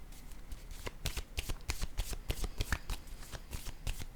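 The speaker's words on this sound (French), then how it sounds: "Je vais déposer une carte sur la maison." Tarot cards are handled, shuffled and laid down, giving a quick run of crisp, close riffling snaps and flicks that continue without a break and without speech.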